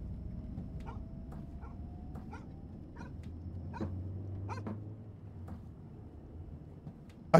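A dog barks in the horror video game Fears of Fathom Home Alone, a string of sharp, evenly spaced yelps at moderate distance over a low rumbling ambient background, with no talking over them.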